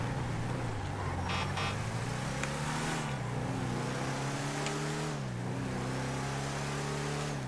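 Truck engine in GTA 5, a continuous loud motor drone whose pitch rises and falls as it accelerates and shifts, heard alone without talk.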